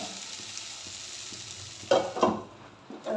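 Potato khichdi being stirred in a pan, a soft, steady sizzle of frying with a few louder scraping stirs of a spoon near the middle and end, close and alone.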